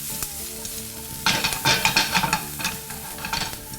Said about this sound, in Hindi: अभी हल्का सा सौते किया, बिल्कुल हल्का सा। इसके बाद इसमें डाल दिए बेल पेपर।